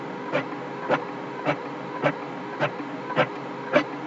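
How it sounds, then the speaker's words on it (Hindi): A colour printer prints an Urdu worksheet, giving a steady mechanical whir. A regular pulse repeats about every half second, fairly close and moderately loud, with no voices over it. "अभी ये मेरा निकल रहा है प्रिंट आउट"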